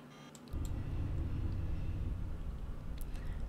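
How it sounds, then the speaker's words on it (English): In the video game Myst, a low, heavy grinding rumble starts suddenly and continues steadily as a massive stone tower rotates, with faint clicks near the end. "that sound is the sound of the tower moving"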